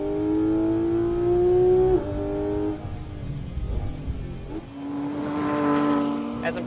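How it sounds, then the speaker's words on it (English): Porsche GT3 RS at Gingerman race track, its engine revving hard through the gears with rising tones, a brief lift around two seconds, then pulling strongly again, close and loud throughout. "this thing absolutely rips out of corners and down the"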